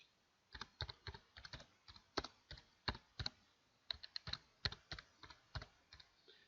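Keystrokes on a computer keyboard while a title is entered in AutoCAD 2016, a brisk irregular run of sharp close clicks with short pauses, quiet overall and free of speech.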